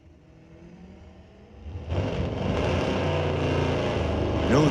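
A 2003 Cadillac CTS and a 1981 Pontiac Trans Am launching in a street legal drag race at Mission Raceway Park, engines idling then roaring sharply to full throttle as they pull away, loud and sustained.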